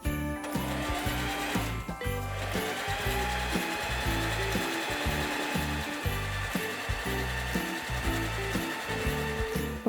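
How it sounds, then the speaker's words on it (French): A sewing machine stitching fabric, a loud, fast rhythmic mechanical clatter running steadily with brief pauses, close up and without talking. "On peut passer à la machine à coudre."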